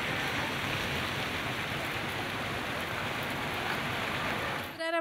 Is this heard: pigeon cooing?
no